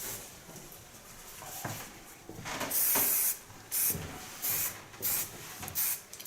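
Hairspray is misted onto a feminine pixie haircut in several short hissing bursts, each a sharp spray, separated by quieter pauses, close to the listener.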